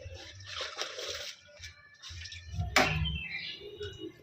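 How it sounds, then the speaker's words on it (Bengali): Banana leaves are rinsed in water, producing intermittent splashes and trickles close by, with one sharp sloshing burst near the end. "পাতাগুলো ভালোভাবে পরিষ্কার করে ধুয়ে নিচ্ছি।"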